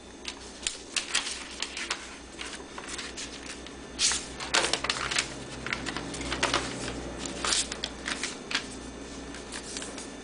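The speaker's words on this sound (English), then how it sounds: "Begin by folding the paper in half horizontally." Square sheet of paper being folded in half by hand, crisp rustling and crinkling creases in irregular bursts, close and fairly loud, with no talking.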